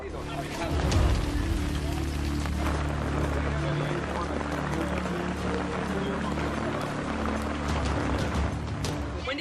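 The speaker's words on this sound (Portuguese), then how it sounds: "Quando essa chuva começou?" Heavy rain falls steadily as a dense, continuous hiss that fills the whole clip, over a low droning hum that sounds like an engine. Muffled voices may sit faintly beneath the rain.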